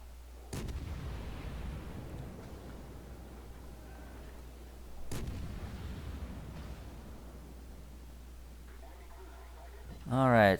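Main battery salvos from the Zao, a tier 10 cruiser in World of Warships, boom out twice, several seconds apart, each a heavy blast with a rumbling tail over steady background game noise.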